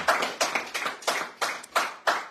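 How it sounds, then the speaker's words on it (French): One or a few people clap slowly and unevenly in a radio bistro setting, about seven distinct close claps, each a sharp crack with a short tail, with no voices. "vous pouvez applaudir Patrice Papillon parce que c'est vraiment un bon mec"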